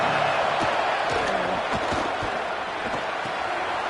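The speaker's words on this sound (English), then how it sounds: "Here comes the noise from this big crowd in Happy Valley on third down." A dense, steady roar of a large video game college football stadium crowd at Happy Valley on third down fills the clip, loud and constant, with faint thumps and shouts poking through.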